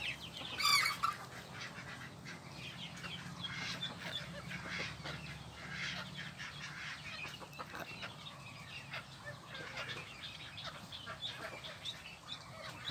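A white-spotted bantam chicken crows in the morning, one loud crow near the start, followed by ongoing farmyard bird calls and rustle.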